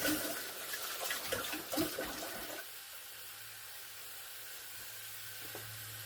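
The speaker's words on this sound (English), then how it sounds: "I'm rinsing my hands off here real quick" Hands rinsed under a running faucet in a home kitchen: a burst of splashing water for about two and a half seconds, then a quieter steady trickle and background hum, with no talking.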